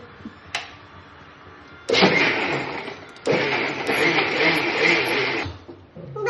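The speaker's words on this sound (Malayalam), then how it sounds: "ജസ്റ്റ് ഇങ്ങനെ പൾസ് മോഡിൽ ഇങ്ങനെ വെറുതെ ഇങ്ങനെ നാക്കിക്കൊണ്ടിരിക്കുകയാണേ" A kitchen mixer grinder making milk sherbet runs in short pulse bursts: a brief click, then two loud whirring spurts of about one and two seconds, separated by a pause.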